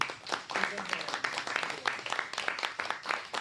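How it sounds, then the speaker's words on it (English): Audience applause at the close of an academic workshop panel, a crowd clapping in an irregular patter with voices talking over it. "Let's give a great round of applause to."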